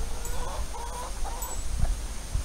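Four hens in a manor house run give a few soft, short clucks, fairly faint against low background noise.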